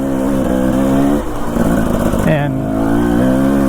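A carbureted dirt bike bought new off the showroom floor revs and shifts on a mountain single-track trail, loud and close with rising and falling engine pitch, while a rider talks over it.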